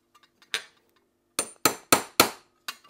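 A light hammer taps small rivets set on an old vise while detailing one-sixth scale Tiger 1 tank mudguards: a few faint ticks, then six sharp, close metallic taps at a quick, uneven pace.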